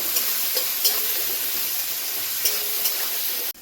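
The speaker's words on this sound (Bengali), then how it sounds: "লবণ দিয়ে দিচ্ছি, একটু ভেজে নেব।" A pan of frying for Bengali small-fish chachchari with salt just added hisses in a loud, steady sizzle throughout, broken by a few soft stirring clicks; no voices.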